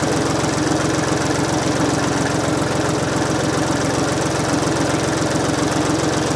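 Mower cutting a clover food plot, a loud, steady engine drone with rapid knocking pulses and vibration, close by and continuous throughout with no talking.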